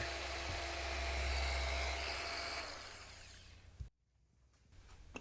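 A Hercules 3-inch polisher from Harbor Freight runs with a loud, steady high whine that winds down and cuts out, then a faint restart at the end, heard alone.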